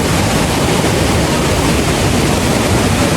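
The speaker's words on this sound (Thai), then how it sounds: "ตอนนี้เราอยู่ที่น้ำตกเฉลิมพระเกียรตินะคะ" The Chaloem Phra Kiat waterfall in Betong, Yala pours in a dense, loud, unbroken roar of rushing water, steady and close with no other sounds above it.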